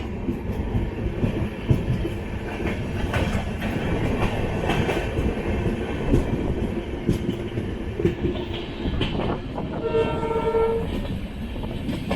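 The 20684 Tambaram Superfast Express runs at about 100 km/h, a loud steady rumble of wheels and carriages with rhythmic clatter, and a horn blast sounding near the end.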